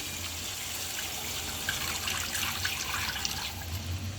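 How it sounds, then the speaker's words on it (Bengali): Water is poured over lightly fried hilsa fish in a pan, making a soft, steady watery rush with faint splashy bubbling, quiet and unaccompanied by talk. "এখন আমি পানি দিয়ে দিব এই মাছের উপরে।"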